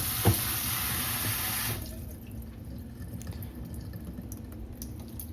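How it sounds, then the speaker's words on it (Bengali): Grated bottle gourd is rinsed under a cold running kitchen tap: a strong, steady rush of water into the sink for under two seconds, then it stops, leaving faint drips and low room noise. "ঠান্ডা জল দিয়ে ভালো করে একটুখানি ধুয়ে নিচ্ছি"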